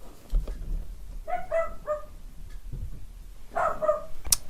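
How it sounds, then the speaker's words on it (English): A dog barks at people stomping up and down stairs, giving several sharp close yips in a quick cluster, a pause, then another loud burst with a whimpering edge, no talk over it. "My dog is losing his mind because the people are stomping up and down the stairs"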